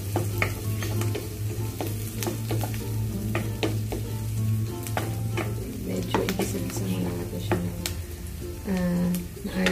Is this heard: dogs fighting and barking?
no